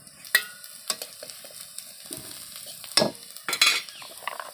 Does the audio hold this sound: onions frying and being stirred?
yes